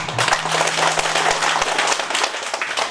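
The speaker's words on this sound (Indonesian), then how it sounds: "Tepuk tangan Bu." A crowd at a regency election campaign event in West Manggarai breaks into applause, a thick, continuous patter of many hands clapping at once, loud and sustained without letting up.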